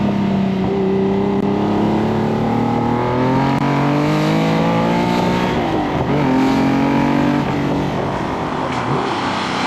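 A TVR Tuscan British sports car engine revs hard and loud, its pitch climbing and falling in sweeping surges with a rough, throaty roar that fills the whole stretch.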